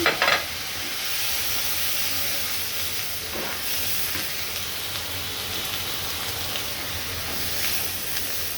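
Prawns sizzling in a pan with ground green chilli and onion paste, making a steady broadband hiss and crackle. It holds at a constant level throughout, with a louder burst at the very start and no talk.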